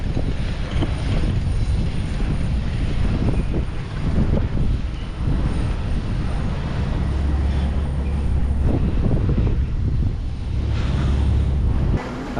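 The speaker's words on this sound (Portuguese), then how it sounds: "Uma lancha deslocando das águas da Baía do Guajará" A motorboat crosses the waters of Guajará Bay off Belém's historic centre, its engine a steady broadband drone heard at a distance and blended with strong wind buffeting the microphone throughout.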